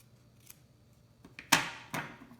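Cutting a small fin into shape for a straw rocket, heard as a couple of quiet, sharp snips close by in an otherwise hushed room.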